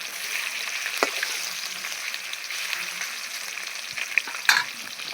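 Pieces of black calf fish, a large freshly caught pond fish, frying in hot oil in a crowded kadai, giving a dense, steady, close sizzle with a few crackling pops near the end.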